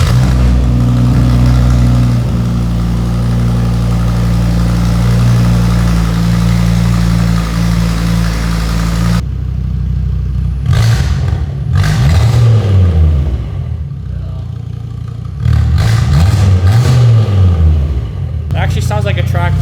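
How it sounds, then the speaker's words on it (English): Audi RS3 engine with an open dump exhaust and only a primary cat: a loud steady idle, then a few sharp revs rising and falling in quick bursts, close up. "I wanna fire this thing up and see what it sounds like with an open dump"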